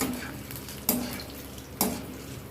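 Garlic cloves fry in a pan for guava chutney with a low, steady sizzle. Two distinct clanks of a spoon or spatula against the pan cut through it.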